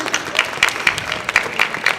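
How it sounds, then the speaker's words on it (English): A small crowd claps steadily and briskly, the applause even and fairly close throughout. "Let's have a thank big round of applause."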